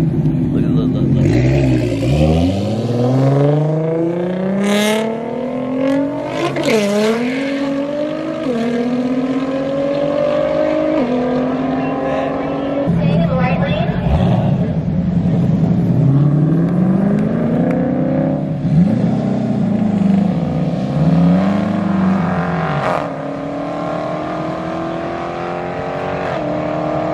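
Drag race cars, a Hellcat against a Camaro, loud and continuous with rising and falling engine pitch sweeps as the cars rev and accelerate, crowd chatter over the top throughout.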